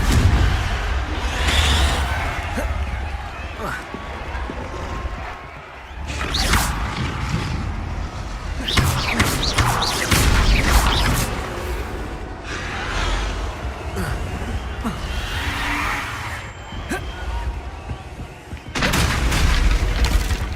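A Confringo fire spell blasts in the Hogwarts Legacy video game, with repeated booming explosive hits and crackling impacts over busy mechanical game sounds, loud and close throughout.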